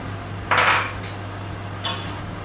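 Beef and tomato stir fry in a pan as egg is added: two or three brief clinks and scrapes of a utensil against the pan over a steady low hum, fairly close, with no talking.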